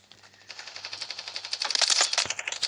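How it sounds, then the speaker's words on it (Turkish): Rapid automatic gunfire from the mobile shooter game Standoff 2 rattles in a dense, continuous burst that grows louder and sharper midway, with no talking over it. "Kim sıkıyor lan adam?"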